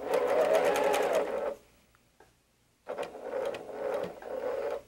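A sewing machine runs in a steady rapid stitching burst while piecing quilt fabric for a Crossroads block, stops for about a second and a half, then resumes with two more close, loud stitching runs.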